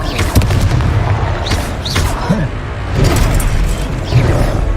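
Confringo blasting spells going off in Hogwarts Legacy, heavy booming explosions and crackling impacts in dense overlapping bursts, loud and close, with shouted voices and combat noise mixed in throughout.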